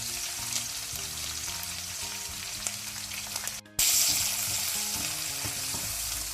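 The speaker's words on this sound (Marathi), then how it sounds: "पियाव घालचो." Onions fry in hot ghee with whole spices for a Mangalorean green peas pulao, a steady crackling sizzle under soft background music, briefly cutting out before resuming louder.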